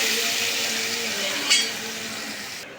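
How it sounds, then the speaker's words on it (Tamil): Lemon rice seasoning with dried red chillies boils in a pan, a steady close hiss of bubbling and sizzling with one brief scrape or stir partway through. "நல்லா கொதிச்சிருச்சு"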